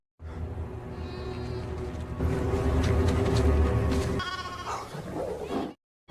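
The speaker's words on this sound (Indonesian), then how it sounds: "terdengar suara domba yang sedang terluka, disusul dengan aungan singa yang kelaparan" An injured sheep bleats loudly and close over a dense, rumbling background, with repeated wavering cries that carry through the whole passage.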